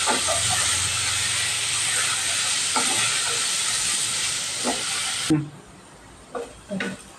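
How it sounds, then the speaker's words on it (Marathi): Rice sautéing in a pot for pithla bhat gives a steady hiss and sizzle through most of the stretch, then drops away, leaving a few soft stirring knocks. "हे तांदूळ मी थोडेसे परतून घेतले"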